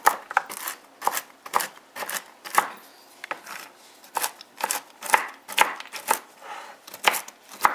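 A knife chops pecans on a board for a German chocolate cake, a steady run of sharp, close, evenly spaced cuts with short pauses between groups and no talking.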